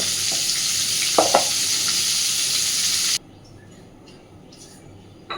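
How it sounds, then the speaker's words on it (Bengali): Butter and oil heating together in a pan give a loud, even hiss for about three seconds before it cuts to a much quieter, faint background sizzle. "এবার বাটারটা মেল্ট করে নেব ভালোভাবে, আর তেলটাও ভালোভাবে, এটা টোটালটাই গরম হয়ে যাবে"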